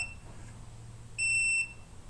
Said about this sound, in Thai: ตั้งไปที่ บัสเซอร์เสียงนะครับ